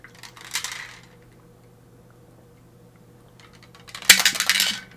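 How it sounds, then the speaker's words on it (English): Two bursts of rattling and clinking from a shaker bottle being shaken hard, separated by a quiet pause with a faint low hum underneath. "Shake up my shaker bottle"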